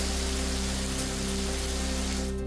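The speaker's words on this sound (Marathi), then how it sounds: "रत्नागिरीच्या चिपळूणमध्ये जोरदार पावसाची हजेरी।" Heavy rain in Chiplun, Ratnagiri, a dense continuous roar of falling water on surfaces, loud and unbroken throughout with a low steady hum beneath.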